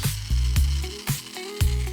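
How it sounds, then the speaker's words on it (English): A small power drill whirs in short bursts while drilling two small holes to mount a macerator pump, its motor pitch rising and dropping with each of several quick pulses. "Drill 2 small holes."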